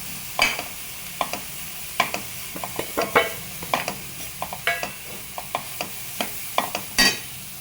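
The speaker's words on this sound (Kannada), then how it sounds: "ಎಲ್ಲ ತರಕಾರಿಗಳನ್ನ ಹಾಕ್ಕೊಂಡು ಬೆಣ್ಣೆಯಲ್ಲಿ ಫ್ರೈ ಮಾಡ್ತಾಯಿದ್ದೀನಿ" Vegetables for momos fry in butter while being stirred, bursts of scraping and clatter repeating irregularly every half second or so over a low background sizzle, close and fairly loud, with no voices.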